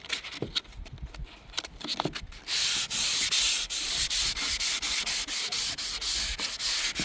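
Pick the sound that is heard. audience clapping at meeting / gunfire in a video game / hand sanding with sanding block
hand sanding with sanding block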